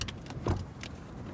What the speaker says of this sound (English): you will pull the number 1 latch again. It will lift up, and you'll hear it click.